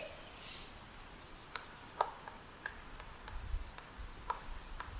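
Marker or chalk writing on a board while an indefinite integral is worked through, heard as faint scattered scratchy strokes and taps spread over several seconds in a quiet room.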